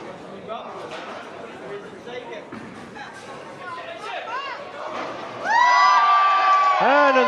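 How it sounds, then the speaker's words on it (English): A crowd at a bowling tournament chatters and then bursts into loud cheering and whoops. The noise swells sharply near the end, with an announcer's voice running underneath. "big cheer for Edwin"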